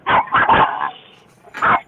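Dogs bark in a quick burst of three sharp woofs, a short pause, then one more bark, close and loud with no talking.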